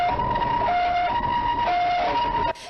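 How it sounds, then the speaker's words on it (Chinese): Ambulance siren wailing in a steady two-tone hi-lo pattern, loud and close, alternating about every half second before cutting off abruptly near the end. "救护车紧急甲人送到病院抢救"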